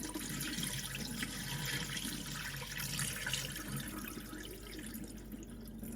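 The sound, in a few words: water being drained from rinsed rice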